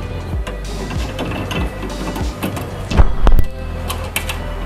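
Bolts being unscrewed on a Milesto II Eliane espresso machine: a steady run of close mechanical ratcheting clicks and small metallic ticks, with a louder clattering patch partway through.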